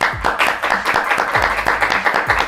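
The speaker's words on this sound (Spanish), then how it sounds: "reciban por favor con un fuerte aplauso a Isabela Fortiche" A studio audience claps for a guest on a Spanish-language talk show, with sharp individual hand claps close by, moderately loud and scattered.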